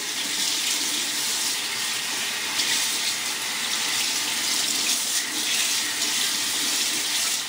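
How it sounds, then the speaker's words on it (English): A kitchen tap runs in a steady, close hiss of water while pork skin is rinsed underneath it, unbroken and alone for the whole stretch. "just give it a quick rinse."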